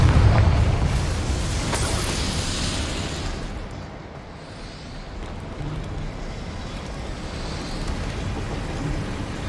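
A Confringo blasting spell explodes in the video game Hogwarts Legacy: a heavy, booming blast opens, then a rumbling roar of debris and wind decays over several seconds, with no speech.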